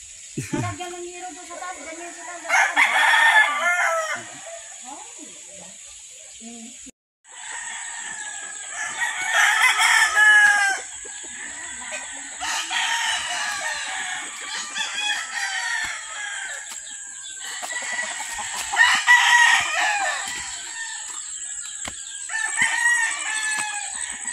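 Sweater fighting cock rooster crowing several times over about twenty seconds, loud and close, each crow a drawn-out call, with people talking softly between and under the crows.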